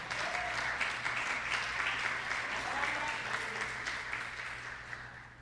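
A church congregation applauds during a Portuguese-language sermon, a dense, sustained wash of clapping that holds steady and then tapers slightly at the end.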